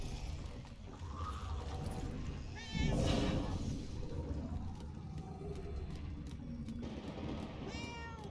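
Cat meowing in the video game Murdered: Soul Suspect, a few short mewing calls over a murky game ambience with a brief louder burst midway.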